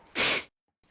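A single short, sharp human sneeze, close and fairly loud, followed by a brief silence and a faint breath.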